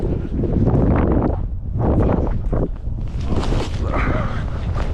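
Strong gusts of wind buffet the microphone outdoors at a Thanksgiving football game, a loud continuous roar that swells and dips.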